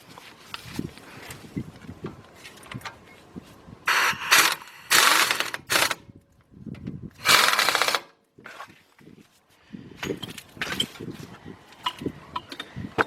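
Ratchet tightening bolts on the left front axle of a 2006 Kia Sorento LX, with rapid clicking bursts and loud ratcheting runs between softer mechanical clatter, close up and without talk.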